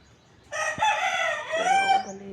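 A rooster crows once, loud and close, with a long wavering call among farm chickens and turkeys. No one speaks.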